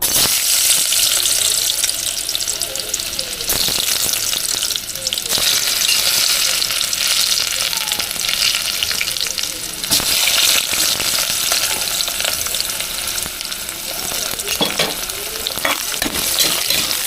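Onion and garlic sauté in a pan with a loud, continuous, close sizzle and frying crackle, broken by occasional stirring clatter throughout.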